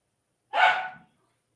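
A single sharp dog bark, close and fairly loud, standing alone in an otherwise silent moment.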